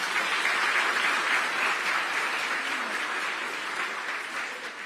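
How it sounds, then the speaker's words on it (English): An audience at an official event gives a guest a sustained round of applause, a thick wash of many hands clapping that stays steady and fades a little toward the end. "Another round of applause for our guest."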